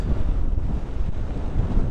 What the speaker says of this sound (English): getting windy, and I don't think you can hear me